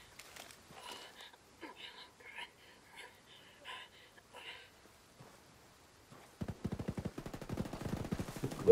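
Gunfire in the tactical shooter Ghost Recon Wildlands, with quiet, breathy voices first and then a dense burst of rapid automatic shots rising near the end.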